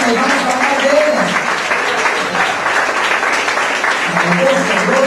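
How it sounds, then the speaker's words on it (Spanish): A church congregation applauds together in a morning service, a dense, loud wash of clapping sustained throughout with voices mixed in. "cuando le damos un aplauso al Señor por las mujeres en esta mañana"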